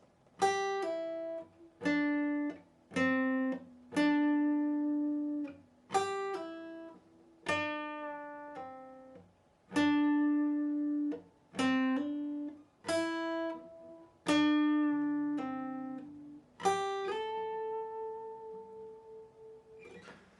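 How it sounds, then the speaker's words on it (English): Slow, deliberate guitar phrases, single plucked notes and short bends separated by gaps, played clearly with no other instruments. "That ends the guitar solo."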